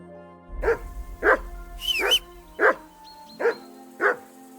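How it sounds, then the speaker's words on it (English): A dog in Kingdom Come: Deliverance 2 barks six times in a steady rhythm, sharp and fairly close, over quiet game ambience. "Henry! Do something with that mutt"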